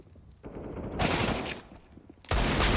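FAMAS rifle gunfire in CS:GO on the Nuke map, short bursts of shots separated by quieter gaps, fairly loud, with a final burst at the end.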